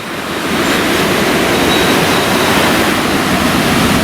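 Wild ocean surf rolls in on a Costa Rica beach where red flags are up, a loud, steady roar of breaking waves with wind rush and no voices.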